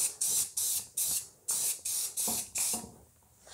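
An aerosol can lays a coat of paint onto a small part for AprilTags, sounding as a series of close hissing bursts of about half a second each, with short gaps between them.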